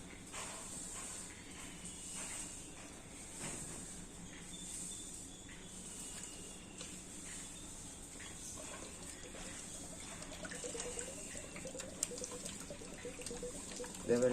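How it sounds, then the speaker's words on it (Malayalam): Water drains from a balloon down into a bottle in a science experiment, a faint continuous trickling hiss with small gurgles, growing slightly louder toward the end. "ഇനി ഞാൻ ഈ ബലൂണിത്തെ വെള്ളത്തിനെ നേരെ കുപ്പിയിലേക്ക് ആക്കാൻ പോവുകയാണ്."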